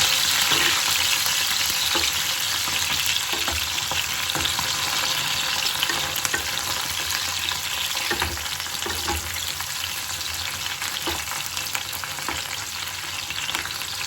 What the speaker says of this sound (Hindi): और इधर मैंने चढ़ा रखा है शिमला मिर्च कट करके।